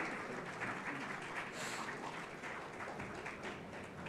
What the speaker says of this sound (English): can we have a round of applause for Ishwarjo Banerjee, please?